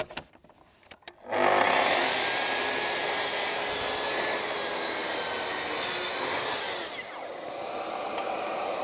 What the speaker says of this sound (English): we just slide our piece of wood in here with our track, and we're going to trim this off.